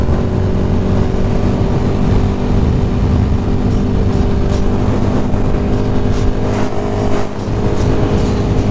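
Motorcycle merging onto a freeway, a loud continuous engine drone with steady tonal hum under heavy wind rush, holding a fairly constant pitch throughout with a few brief clicks near the end.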